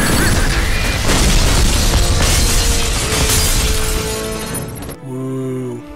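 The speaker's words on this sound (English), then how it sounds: "Even the massive explosions get dull after a while." Loud, dense explosions in the video game Black crash and boom one after another with shattering debris, then cut abruptly to a brief synthetic tonal hum.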